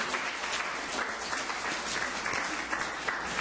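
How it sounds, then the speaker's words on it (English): Audience applause at a panel event during an awareness week, dense and steady throughout, filling the room at a constant level. "So let's please give them a clap."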